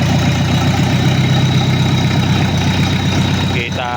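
Overhauled Mitsubishi 4D56 diesel engine idling after its rebuild, a loud, steady, rhythmic clatter with a deep throb that continues unbroken, briefly dipping near the end.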